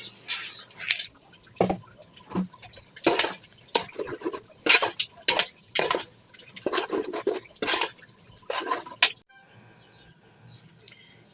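Washed rice and lentils go into fried spice paste in a pot for khichuri and are stirred, giving irregular wet clatters, scrapes and sizzling bursts that stop abruptly into near quiet.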